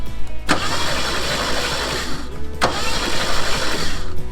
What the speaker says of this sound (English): Now you have to find out if the starter works.